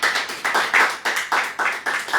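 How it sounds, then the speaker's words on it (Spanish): A church congregation claps hands in a steady, even rhythm, about four sharp claps per second, close and fairly loud, with no one talking. "Palmas para el Señor."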